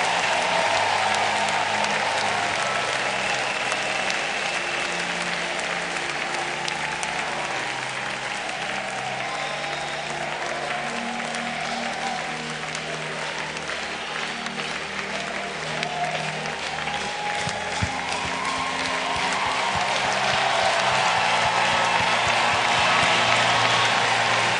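Worshippers at a church service keep clapping their hands steadily over ongoing praise music, a dense, even wash of claps that runs unbroken from start to finish.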